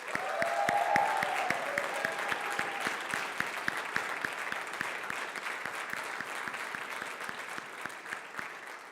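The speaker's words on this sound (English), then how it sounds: "Let's give a rousing applause for Studio 462 in Minneapolis," Awards-show audience applauding steadily for a film team at a festival ceremony, dense sustained clapping for about nine seconds with a brief tonal sound near the start, no talk.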